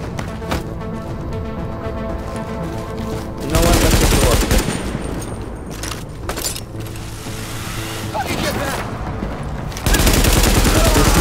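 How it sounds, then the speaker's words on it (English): Shooting in the video game The Division, with loud bursts of gunfire and sharp impact hits, including the headshot effect, breaking out in waves over a constant rumbling battle backdrop. "I like the sound when you make a headshot too"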